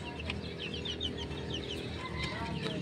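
A big Samo native rooster and other chickens cluck in repeated short bursts over a steady background hum, fairly close and with no talk.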